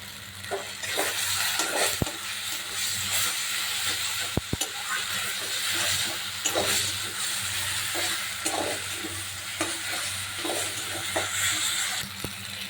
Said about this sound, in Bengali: এখন দিয়ে দেবো 7 চামচ মতো জিরের গুঁড়ো